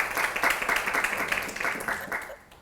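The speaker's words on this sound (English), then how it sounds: "let's clap for Lester" An audience at a tech careers event applauds in a brisk, dense burst of clapping that tapers off toward the end, with some voices mixed in.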